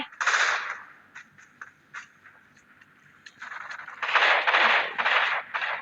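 Gunfire in the video game Arena Breakout, with loud rapid automatic bursts at the start and again near the end and sparse single shots between, all close and sharp with no talking.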